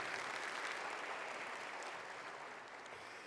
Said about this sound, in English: Ladies and gentlemen, give them a round of applause, please.